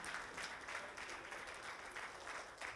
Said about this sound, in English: Can we give the Lord a hand clap of praise this morning?